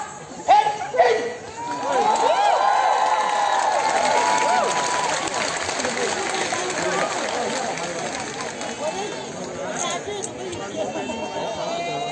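A large crowd at a political rally applauds to encourage its leader, a sustained wash of clapping with scattered cheers and chatter that runs under a speaker's amplified voice.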